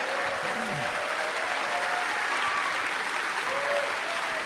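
A large crowd of University of Wisconsin students and others applauds at an outdoor festival event, producing a dense, steady wash of clapping that holds at an even level throughout.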